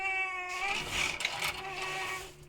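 A cat gives a drawn-out, wavering meow, close and fairly loud, its pitch bending and cracking before fading out, at an outdoor market in Turkey.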